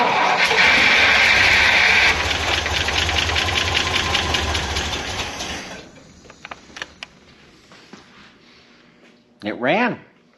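A small motor runs loudly with a steady, rough idle for about six seconds, then cuts out, leaving a few faint clicks and a short rising-and-falling whir near the end; a voice murmurs in the background.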